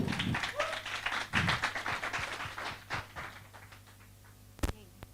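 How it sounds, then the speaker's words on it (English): Audience claps at the close of a conference session, a brisk round of many hands that thins out over a few seconds, ending with a sharp isolated knock. "Another hand clap, please."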